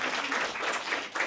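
A dense burst of audience applause at a career fair, many hands clapping at once in a steady, bright wash of sound.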